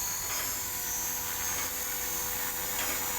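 A KDS 450QS radio-controlled helicopter's rotor whirs with a high, steady buzzing whine, spinning up continuously at close range with no talking.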